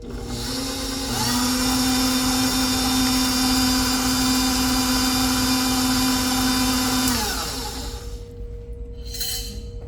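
A stand mixer with its paddle beats loaded mashed potatoes, a steady loud motor whine with a grinding churn that runs for about seven seconds, then winds down and stops, leaving quiet room noise.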